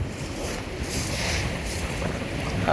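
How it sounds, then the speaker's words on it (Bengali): Wind and waves buffet the hull of the Surabhi 7 passenger launch on the Meghna river during a Barishal to Dhaka trip, a steady broadband rush of air and water with no voices, swelling slightly at the end. "মেঘনায় বাতাসও হচ্ছে এবং আচমকা ঢেউয়ের ঝাপটা আসতেছে লঞ্চের হালের উপরে"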